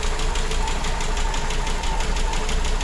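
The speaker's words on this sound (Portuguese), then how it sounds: "Olha essa lenta como é que tá." Gol 1.6 CHT car engine idles on gasoline, a steady, even, rhythmic thrum that is close and fairly loud, heard alone.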